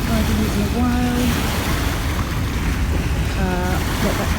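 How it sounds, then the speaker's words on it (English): River tide washes in and splashes along a muddy foreshore in broad, continuous rushing noise, with brief tonal whistles or calls over it and no clear speech. "Get out the way of this tide about to splash in"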